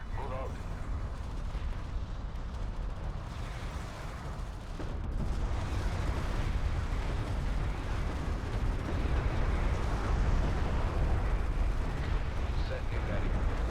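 Dense, continuous barrage of explosions and heavy weapons fire as a carrier comes under attack in the real-time strategy game Deserts of Kharak, a loud rumbling wash of booms that swells slightly after the first few seconds, with no voices.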